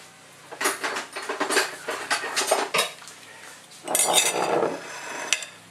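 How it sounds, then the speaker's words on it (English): Knife and fork clink and scrape against a plate while someone eats Double Choc Stout pancakes, giving bursts of close metallic taps with short pauses and a denser run near the end, without talk. "grab a spork and dig in, or a knife and fork"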